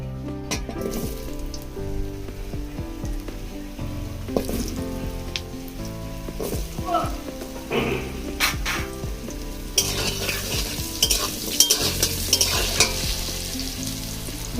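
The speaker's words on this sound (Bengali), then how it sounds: "এখন আমি আলুটা দিয়ে দিব" Potatoes hit hot oil already seasoned with whole cumin and cardamom, crackling and sizzling steadily up close while a utensil stirs and scrapes the pan, with no talk over it.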